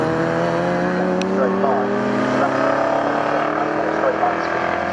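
Vintage 1960s race cars, including a Datsun, lap Snetterton circuit with a loud sustained engine drone and shifting pitch as cars pass, while a commentator talks over the racing.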